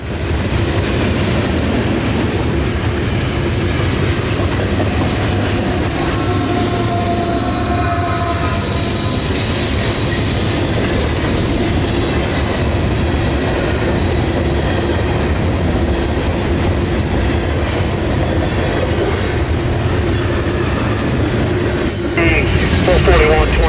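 Freight train locomotives roll past close by, a loud continuous rumble with metallic wheel squeals and rhythmic clatter, swelling slightly near the end.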